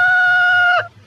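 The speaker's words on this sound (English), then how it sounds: "chickens." A single bright, tonal squawk from a chicken, close and loud, holding briefly before breaking off with a faint low rumble behind.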